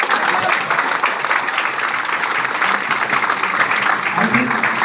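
Students clapping together in a classroom, sustained dense applause filling the room for the whole stretch without a break.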